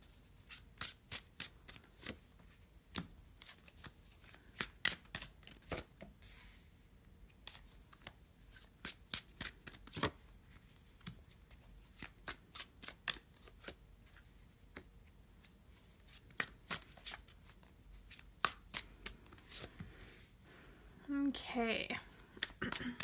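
Oracle cards being shuffled by hand, giving repeated crisp riffling bursts close by in an otherwise quiet room, with a short handling rustle near the end.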